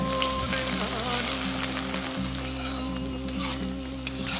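Mustard seeds and chopped papaya for a Kerala-style papaya curry fry in hot oil with a steady close sizzle, accompanied by occasional stirring scrapes and a brief sharp clink near the end.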